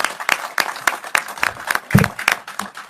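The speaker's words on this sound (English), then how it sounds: "The applause that you hear right now is" A crowd of film workers applauds at a British Columbia film industry announcement, with scattered, irregular claps at moderate distance, fairly thin and uneven rather than a thunderous ovation.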